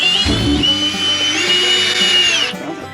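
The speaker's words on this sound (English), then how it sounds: "So am I like drilling into like the frame or something?" A power drill whines loudly at high speed for a couple of seconds, biting into the metal frame of a 1966 C10 truck, then winds down.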